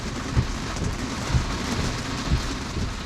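Heavy rain drums steadily on a car making an unprotected left turn while driving on FSD Beta, with wipers running near maximum; a broad continuous wash with soft rhythmic thumps about once a second, no talking.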